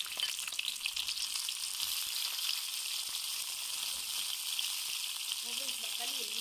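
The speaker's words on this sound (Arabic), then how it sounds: "وهسه حمت عندنا الزيت، راح نضيف الباجلة." Fava beans frying in hot oil in a pan give a steady, dense crackling sizzle that holds at an even loudness throughout, close by and with no other sounds.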